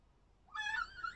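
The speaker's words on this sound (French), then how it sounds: "le chien qui arrivait et qui a fait peur au chat, Litchi s'est jeté dessus" A cat lets out one short, fairly faint meow after a brief silence, right after a dog frightened it.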